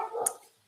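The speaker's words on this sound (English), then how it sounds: "This cacophony of dogs." A single short dog bark, close and fairly clear, from one of several dogs near a house deep in the woods, heard through an open window.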